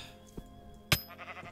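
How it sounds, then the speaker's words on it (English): Sheep bleating in the Minecraft video game: a few short, separate bleats, with the loudest sharp call in the middle and softer ones before and after, heard close and alone. "Last sheep."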